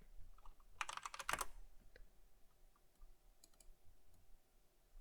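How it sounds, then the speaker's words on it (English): Quick bursts of clattering keystrokes on a computer keyboard, a dense flurry of clicks followed by a few scattered taps in a quiet room. "I'm getting tired of typing it"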